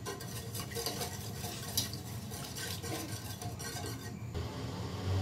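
A spoon stirs sugar and liquid in a pot on the stove, producing a continuous close scraping and swishing with light metallic clinks throughout.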